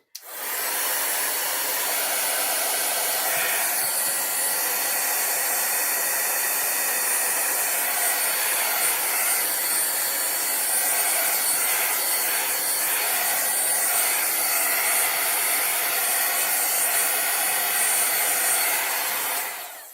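A loud, steady hair dryer blows continuously from start to finish, drying craft paper, a close whooshing roar of air with no voices over it.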